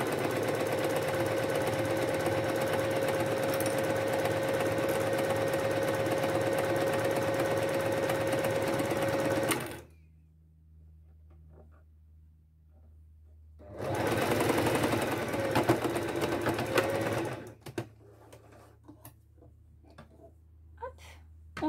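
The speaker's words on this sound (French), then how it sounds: "On coud tout le reste de notre jupe." Domestic sewing machine stitching the rest of a skirt: a loud, fast mechanical whir with a steady tone runs for about ten seconds, stops, then a second burst follows, with quiet clicks and handling afterward.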